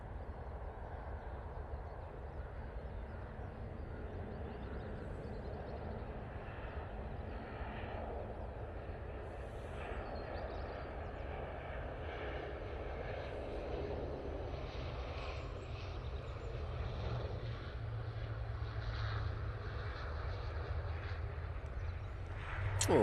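An ATR 72 turboprop arriving at Manchester Airport in low visibility, its engine drone steady and moderately distant over broad outdoor rumble, swelling slightly at the end as it touches down.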